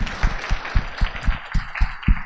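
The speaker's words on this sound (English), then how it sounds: "Let's give a round of applause to our speakers" Small audience applauding speakers at the end of a classroom data-visualization talk, a sparse round of distinct claps with a rhythmic thumping beneath, brief and fairly near.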